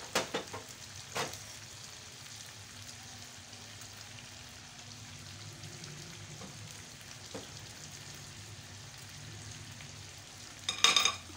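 Beef ginger karahi sizzling steadily in a pan as lemon is added, a soft, continuous frying hiss with a few brief clatters and a louder burst near the end.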